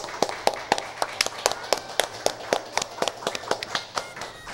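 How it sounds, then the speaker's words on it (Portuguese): A live comedy show audience gives a standing ovation, a handful of nearby hands clapping in quick, slightly uneven rhythm, crisp and close, with a faint murmur of voices behind. "Uma salva de palmas de pé"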